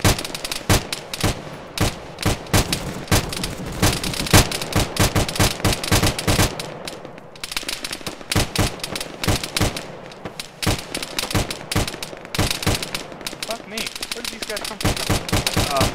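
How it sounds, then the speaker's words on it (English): Heavy gunfire in an Arma firefight: rapid bursts of rifle and machine-gun shots crack in quick rhythmic succession throughout, loud and close, with a brief lull midway before the shooting resumes. "Taking a lot of fire"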